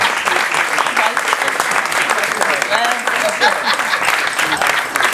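Wedding guests applaud during the toasts, a steady wash of clapping lasting several seconds with voices and whoops mixed in.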